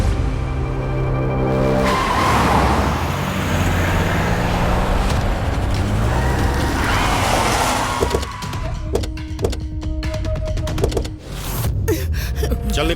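Car racing off with roaring engine and long, loud tire squeals on a road, followed by sharp screeching skids near the end, with voices briefly audible underneath.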